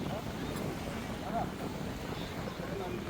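Continuous sea breeze on a beach buffets the microphone with a low, steady rumble, and faint voices murmur in the background.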